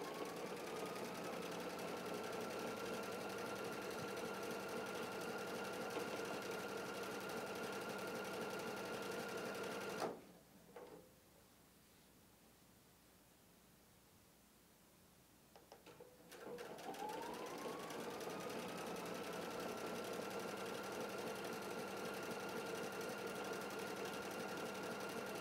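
A Husqvarna Viking Designer Epic 3 sewing machine sews guided pictogram stitches with a steady whirring hum, stops for about six seconds of near silence, then spins back up and keeps stitching at a constant close, moderate level.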